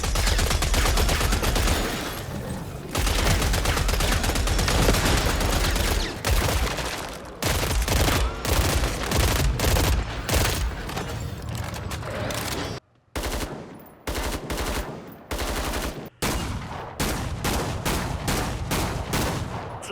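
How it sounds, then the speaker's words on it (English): Rapid automatic gunfire and bursts of shots from weapons in the zombie-shooter video game Killing Floor 3, loud and nearly continuous across the span, broken by a few brief silent gaps. "the weapon sounds are just so generic, it just lacks the oomph and punch that the KF2 weapons had"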